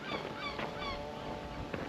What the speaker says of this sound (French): Vous entendez le bruit des mouettes.